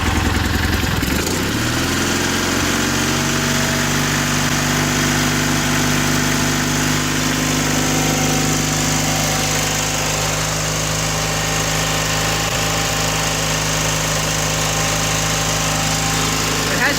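Engine of a 1984 John Deere 316 garden tractor running steadily after its RPM was adjusted, a loud continuous droning hum with a slight pitch settling early on, alone without talk.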